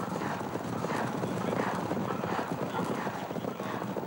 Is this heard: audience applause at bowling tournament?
no